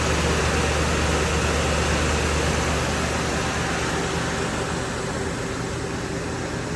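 A Mazak Nexus QTN 350II CNC lathe spindle turning steadily at 1500 rpm, a very quiet, even mechanical hum with broadband hiss and no talking.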